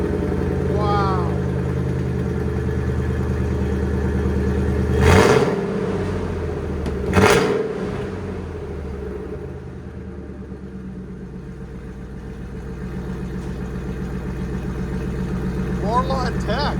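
A deep, rumbling supercharged 5.4L V8 exhaust on a 2000 Ford F-150 Lightning with a Borla ATAK system idles steadily, with two sharp revs surging up midway before settling back into a low throaty burble.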